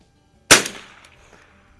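A single sharp crack from a Noble model 33A .22 pump-action rifle fired from a rest, close and loud, followed by a short decaying ring and faint clicks.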